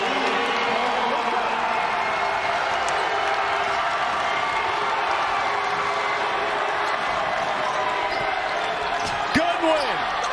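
Basketball crowd at a TBT 2024 Super 16 game, Assembly Ball vs Eberlein Drive, roaring steadily through the tense Elam ending, a dense sustained arena din with a ball bouncing and sneakers squeaking near the end.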